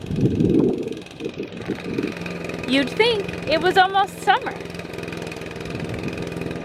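A lawn mower drones steadily in the background on a farm on a warm spring day. Someone talks over the engine, and a bird chirps briefly in the middle.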